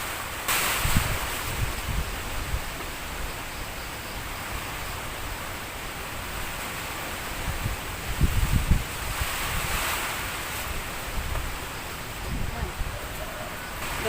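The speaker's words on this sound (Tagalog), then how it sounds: "Napakalakas pa rin ang hangin." Strong typhoon wind from Typhoon Pepito roars outdoors in broad gusts, with louder surges rising and falling over a constant rushing background.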